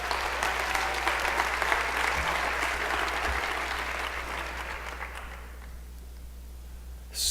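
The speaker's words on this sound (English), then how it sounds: "So a round of applause for everybody who was involved with this program." An audience applauds everyone involved in a global youth survey program at a town hall, steady dense clapping that holds for several seconds before gradually thinning and fading out.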